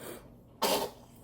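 A single sharp sneeze bursts out close to the microphone, loud and brief, with a hushed room before it and soft background after.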